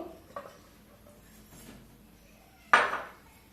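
Cut raw mango pieces go into a container, heard as a few faint light taps followed by one louder clattering drop of pieces landing, in a quiet room.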